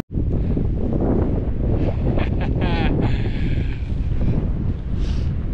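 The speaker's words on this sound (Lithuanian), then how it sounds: "bele kaip vėjas pučia" Strong mountain wind gusting across the microphone on the climb to Rysy, Poland's highest peak, a loud buffeting roar throughout with brief whistling flutters in the middle.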